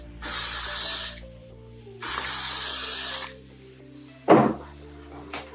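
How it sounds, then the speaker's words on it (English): Paul Mitchell Extra Body Finishing Spray hairspray hisses from an aerosol can in two long spritzes of about a second each, close and clear, followed by a short sharper burst and a brief faint puff. "I'm gonna use the Paul Mitchell Extra Body Finishing Spray."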